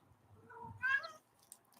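A cat gives one short, faint meow nearby in an otherwise quiet room, followed by a brief tiny click.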